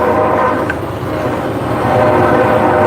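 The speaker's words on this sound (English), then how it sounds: "sorry about the train." A nearby train rolls past a forging shop with a loud continuous rumble and a drawn-out horn blast layered over the steady rail noise.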